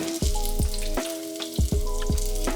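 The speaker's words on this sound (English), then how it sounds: "Now cook the pancakes for 2 to 3 minutes on each side" Polish apple pancakes frying in a pan give a continuous close sizzle, broken by several rhythmic bursts of crackle and spatter, with no voices.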